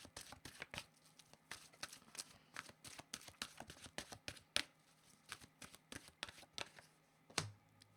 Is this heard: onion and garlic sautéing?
no